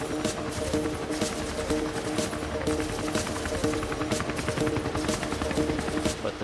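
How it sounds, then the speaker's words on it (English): Designed machine gun fire meant to come from a gun mounted on a helicopter, a dense continuous stream of rapid rattling shots over a steady rotor-like drone, loud and unbroken throughout. "Machine gun sounds, just for fun, but just to kind of show, machine guns."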